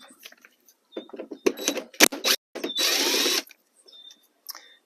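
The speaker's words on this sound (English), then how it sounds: "there's 2 Phillips screws that need to come out." Phillips screws are backed out of the side of a Honda Odyssey bumper near the wheel, heard as close ratcheting clicks and short mechanical bursts with a longer steady whir, separated by quiet gaps.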